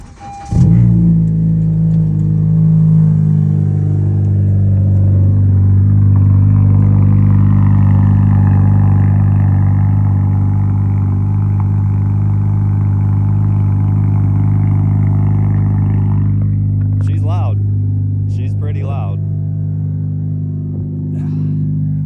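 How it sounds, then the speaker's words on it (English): A car's engine cranks and catches on a cold start with the clutch pedal held in, then settles into a loud, steady, deep idle that holds close by for about twenty seconds, with a few faint clicks near the end. "now I'll give you guys a cold start"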